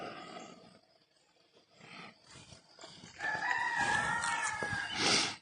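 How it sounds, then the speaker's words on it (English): A rooster crows loudly and clearly at sunrise, a long strained call rising in the second half, with faint scattered background noise before it. "that rooster's loud"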